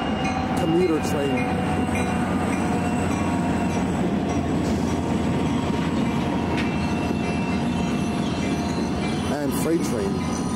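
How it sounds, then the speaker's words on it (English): A commuter train rumbles past close by on westbound tracks with a continuous heavy roar and rattling wheels, a few faint squeals rising above the din. "Commuter train."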